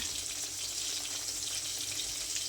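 Pabda fish frying in a pan, a steady faint hiss and sizzle of hot oil with no pauses and no voices.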